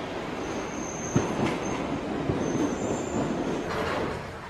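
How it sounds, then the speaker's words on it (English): A London Underground tube train pulls into a station platform, its steady rumble filling the space with high wheel squeals and a few sharp clanks over the rolling noise. "Here comes the train."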